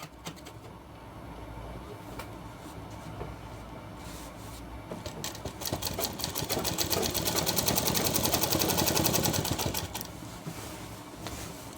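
A sewing machine stitches a shirt in a tailoring session, its rapid mechanical whir building steadily louder through the middle and holding a dense, even rhythm, close up with no talk.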